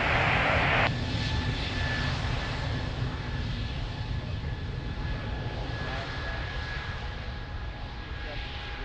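Airliner taking off on runway 02 at Lisbon Airport: a steady, broad engine roar heard from a distance, with a thin tonal whine running through it, slowly easing as it rolls away.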